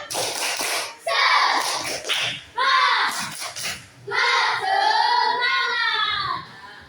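A classroom of children performs the 'tepuk semangat' clapping chant, loud and close, with bursts of rhythmic hand claps between rising and falling chanted phrases, pausing briefly in between.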